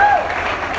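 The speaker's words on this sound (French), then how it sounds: "Encourageons-les par nos acclamations" A church congregation applauds and cheers to welcome newcomers, a short burst of dense, loud clapping and crowd noise with a voice briefly heard at the start.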